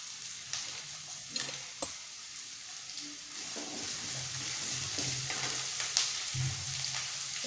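Onion and curry leaves fry in oil in a pan, a steady close sizzle with occasional stirring scrapes and clatters, louder in the second half.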